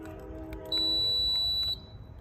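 A single high, steady electronic beep lasting about a second from a keyless RV storage door lock confirming a sync, fairly clear over a quiet background hum.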